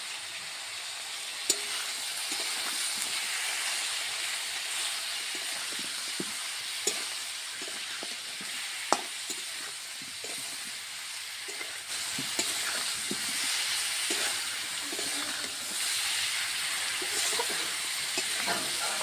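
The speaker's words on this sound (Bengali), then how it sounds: "এখানে মাছের মতো ভাজার মতো হালকা তেলে ভাজা করে নেব। হালকা তেলে রান্না হচ্ছে এটা।" Food seasoned with salt and turmeric fries in a little oil, giving a steady close sizzle with scattered clicks and scrapes of stirring throughout; no one speaks.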